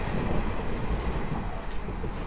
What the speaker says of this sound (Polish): Oczywiście będą także składy PKP Intercity, Witos oraz Hańcza.